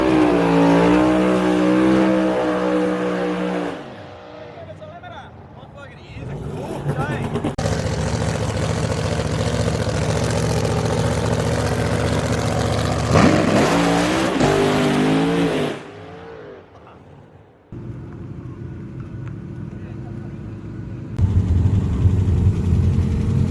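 A tuned Toyota Starlet race car at a drag strip revs hard and holds its engine at a loud, steady roar. The note drops and climbs again in several surges, with brief voices in between.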